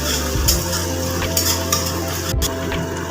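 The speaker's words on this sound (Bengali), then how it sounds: "এবার আমি এখানে আদা দিয়ে আদাটাকে ভালো করে একটু ভেজে নেব" Ginger frying in a pan on low gas while being stirred, a steady close sizzle broken by a few scraping strokes of the spoon against the pan.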